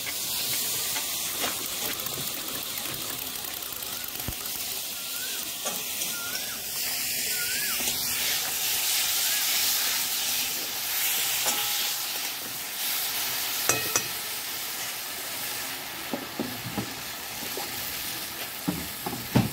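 Vegetables for a Bengali bata fish curry are sautéed in a pan, giving a steady, close hiss of frying broken by intermittent stirring scrapes and a few sharp clicks toward the end.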